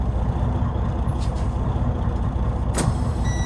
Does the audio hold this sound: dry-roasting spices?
no